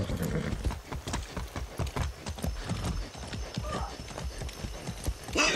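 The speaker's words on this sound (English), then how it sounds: "That's a good horse." Rhythmic clip-clop of horse hooves at a steady walking pace in the video game Far Cry 6, close and clear, with a brief snort near the end.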